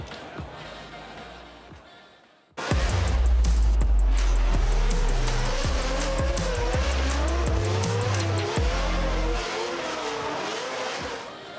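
Drift cars at a Drift Masters top 16 round in Riga, Latvia, with loud engines roaring and revving and sustained tire squeal close by, starting abruptly after a quiet moment and running steadily throughout.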